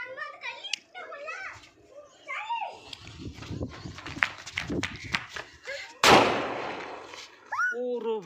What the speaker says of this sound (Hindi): इसका धमाका तो ज़बरदस्त था